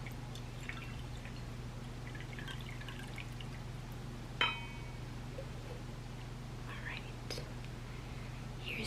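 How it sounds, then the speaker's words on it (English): Tea is poured softly from a teapot into a cup in a quiet, whispered tea-shop setting, with a faint trickle and a few gentle drips and clinks under low whispering and a steady background hum. "And now I'll go ahead and pour your tea."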